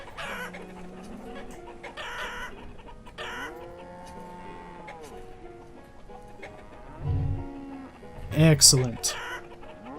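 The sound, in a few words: chickens clucking in video game Banished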